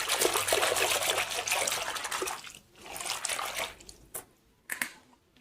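Hot running water pours and trickles into a basin while soap is mixed in for a loc detox, a steady splashing stream that tapers to intermittent drips and small splashes.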